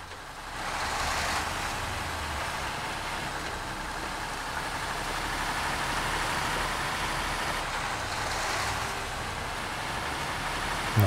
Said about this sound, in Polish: Ma włączony silnik